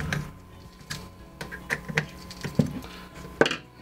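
Irregular small clicks, ticks and light metallic scrapes as two screws are loosened to extend a ProMediaGear L-bracket for a Nikon Z6/Z7 Mark II camera, close and fairly quiet with uneven spacing.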